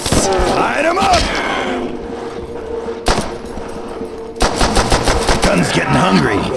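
Rapid automatic gunfire fills the mix as zombies are shot in Call of Duty Nazi Zombies on a pirate ship map, loud dense bursts with a brief lull midway, game voices heard over the shooting.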